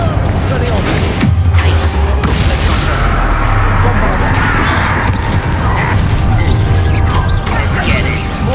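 Confringo fiery blast spell in Hogwarts Legacy: a sustained, loud booming roar with crashing bursts runs throughout, dense and close, with voices speaking over the combat noise.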